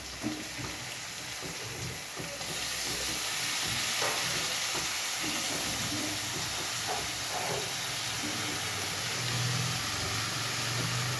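Chicken hits a hot pan and fries with a steady hiss and sizzle that swells and holds, close and continuous, with a few faint clinks.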